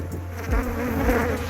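Honeybees from an aggressive hive buzz loudly and close, a dense continuous drone that swells around the middle of the short stretch. No one speaks.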